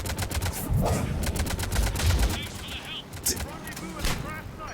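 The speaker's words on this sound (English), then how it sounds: "This whole fully automatic sniper rifle thing is amazing." Rapid bursts from a fully automatic sniper rifle in the Mass Effect 3 Legendary Edition game, loud, sharp shots in quick succession with short pauses, overlaid with game sounds.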